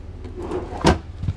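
A large drawer beneath the dinette of a 2017 Airstream Classic 30J travel trailer slides open with a single short rumbling thud, close and fairly quiet.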